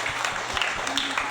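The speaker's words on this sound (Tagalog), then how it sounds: "Palakpak ang kusog, pasukan." A church congregation claps together, a busy steady patter of many hands with some voices mixed in, filling the short stretch at even strength.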